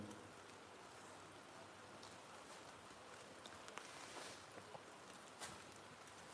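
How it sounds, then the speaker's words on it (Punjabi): Light drizzling rain falling steadily in Sikhwala village, Lambi block, a soft continuous patter with a few brief louder drops, no voices. "ਮੀਂਹ ਜਿਹੜਾ ਪੈ ਰਿਹਾ ਪਿੰਡ ਸਿੱਖਵਾਲਾ ਬਲਾਕ ਲੰਬੀ ਵਿਖੇ ਦੇਖ ਰਹੇ ਹੋ ਤੁਸੀਂ ਬ੍ਰੇਕ ਕਣੀਆਂ ਦਾ ਮੀਂਹ ਪੈ ਰਿਹਾ"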